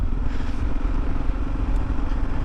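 Kawasaki KLR motorcycle rattling over a washboard dirt back road, with a loud, continuous rumble of engine and chassis clatter that stays close throughout.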